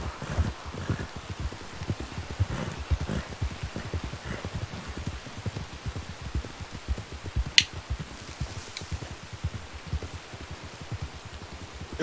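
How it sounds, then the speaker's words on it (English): Heavy rain pours down steadily, a dense patter of drops drumming on a surface nearby, with no voices. "that is raining hard"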